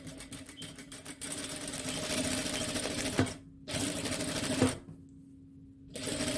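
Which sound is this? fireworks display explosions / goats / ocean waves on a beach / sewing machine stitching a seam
sewing machine stitching a seam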